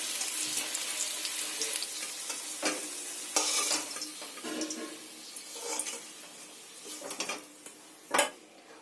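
Potatoes fry in hot oil in a pan while being stirred, a steady quiet sizzle broken by scraping and clinking of the utensil against the pan, with a sharp knock near the end.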